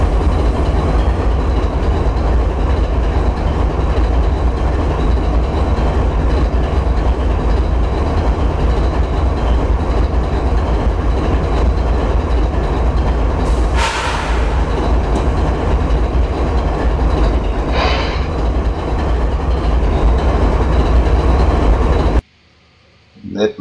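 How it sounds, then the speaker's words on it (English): GE Evolution (Gevo) locomotive sounds from the Trainz 2019 simulator: a loud, continuous diesel rumble with rail clatter runs nearly throughout, with a couple of brief hissing bursts, then cuts off sharply near the end. "I'm about to let you guys hear the Gevo sounds that I'm working on for you guys"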